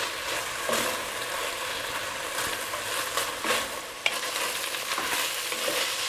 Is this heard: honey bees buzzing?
no